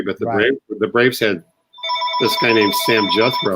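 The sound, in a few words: mobile phone ringing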